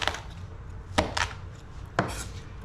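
Sharp knife chopping a cactus pad into small squares on a cutting board, with a few distinct crisp cuts spaced about a second apart over soft background noise and no talk.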